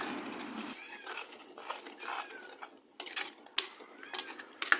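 A spoon stirs fish curry in a clay pot, with scraping and knocking against the earthenware in irregular bursts, close up and moderately loud, no talking.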